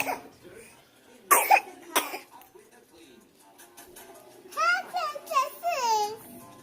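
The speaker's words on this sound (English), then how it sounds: "there's the cough" A couple of sharp coughs stand out near the start, followed later by a small child babbling and vocalizing in a quiet room.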